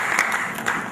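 Applause from an audience at a cybersecurity conference in Nigeria, welcoming a speaker to the stage; a short, steady burst of clapping at moderate volume, heard alone without talk.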